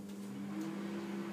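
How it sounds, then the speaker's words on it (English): A microwave oven hums steadily and quietly while custard in a jug is stirred inside it, with a low constant drone and faint scraping. "you just give it a stir in the microwave like this"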